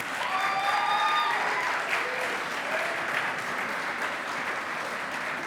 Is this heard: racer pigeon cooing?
no